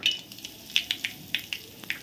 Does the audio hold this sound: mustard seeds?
yes